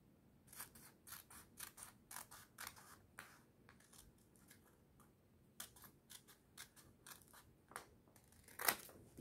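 Scissors snip through fabric while an apron is cut out, making a quick, close series of crisp cuts in irregular bursts with brief pauses, ending in one louder snip.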